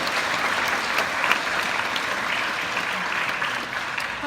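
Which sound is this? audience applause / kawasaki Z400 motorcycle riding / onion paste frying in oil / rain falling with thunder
audience applause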